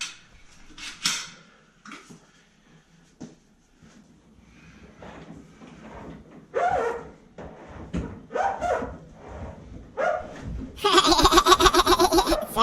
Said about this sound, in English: Sounds like a doggy barking.